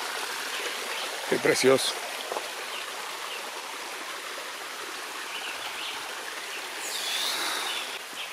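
The Río Seco river flows steadily in the background, a continuous close rush and babble of water. A person speaks briefly over it near the start, and the water carries on alone after that.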